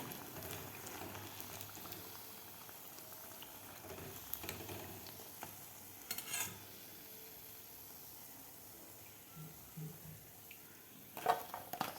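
Aloo poha pakoras deep frying in hot oil, making a soft, steady bubbling boil with a few light clatters on top, quiet and continuous throughout.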